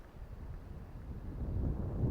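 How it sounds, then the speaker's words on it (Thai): Strong wind buffets the microphone outdoors at a fishing spot for snakehead, a steady low rumbling roar that swells slightly louder toward the end, with no talking. "แต่ลมค่อนข้างแรงครับ"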